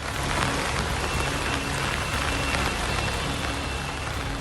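Heavy rain pouring down in Gurugram, a dense steady hiss of falling water with scattered louder drops striking surfaces, constant and enveloping throughout with no voices.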